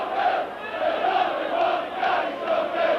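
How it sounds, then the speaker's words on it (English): A Leeds rugby league crowd at a Castleford versus Leeds match roars and cheers in a loud, sustained swell with rhythmic rising and falling chants, dense and continuous throughout. "And the Leeds crowd cheering Gary Schofield."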